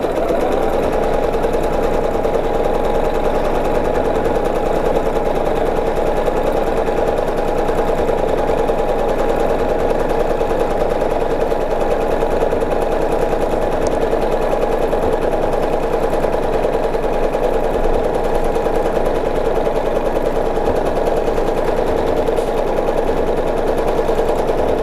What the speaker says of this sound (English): So I'm going to subtly stitch in the ditch right down there and start stitching again.